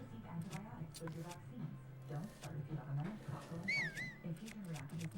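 A short whistle of a few rising and falling notes comes from a person during Breath of the Wild play on Switch 2, heard faintly under ongoing conversation.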